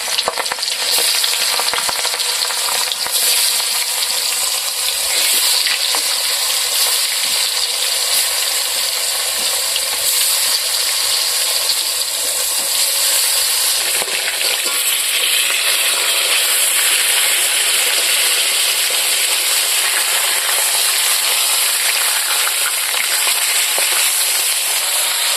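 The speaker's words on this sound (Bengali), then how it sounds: "এক এক করে আমি সুন্দর করে মাছগুলোকে ভাজি নেব" Pieces of a large pangas fish fry in a village-style pan of hot oil, a loud, dense, unbroken hissing sizzle that stays close and constant throughout.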